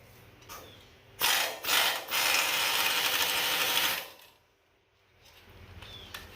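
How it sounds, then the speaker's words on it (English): Ratchet or power wrench grinding away at an old rusted bolt on the frame of a 1959 Willys CJ-5 Jeep, a loud close burst lasting about three seconds with short clicks before it, then quieting. "let me see if I can just break it off real quick"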